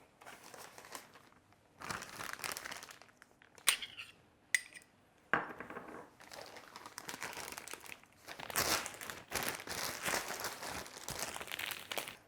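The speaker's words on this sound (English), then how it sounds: "I am going to use a piping bag that you use on pastry most of the time" A pastry piping bag crinkles and crunches while potato filling is piped into jacket potatoes, giving irregular plastic rustles with a few sharp clinks of utensils, close and moderately loud, with no talk.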